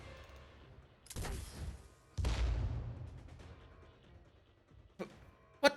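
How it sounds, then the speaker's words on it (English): A movable mechanical originium cannon fires in the Arknights game, with two heavy booming blasts about a second apart, then a sharper burst near the end, each followed by a rumbling decay. "A movable mechanical originium cannon."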